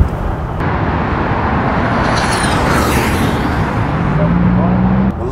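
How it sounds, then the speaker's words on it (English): Electric Superformance Shelby Cobra pulling hard with a loud, steady broadband roar and rising whine that builds across the run, close and sustained, with a speaking voice faintly underneath. "Brutal acceleration."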